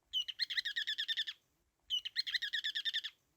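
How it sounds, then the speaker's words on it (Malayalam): A ruddy turnstone gives two quick runs of rapid, high chattering calls, each a tight string of sharp notes, close and clear against a quiet background. "കല്ലുരുട്ടിക്കാട ഒരു പ്രത്യേക ചിലക്കൽ ശബ്ദവും പ്രജനനകാലത്ത് അവയുടെ തുടർച്ചയായ കലപില ശബ്ദവും കേൾക്കാറുണ്ട്."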